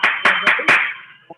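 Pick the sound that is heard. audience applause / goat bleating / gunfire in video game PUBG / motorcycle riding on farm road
audience applause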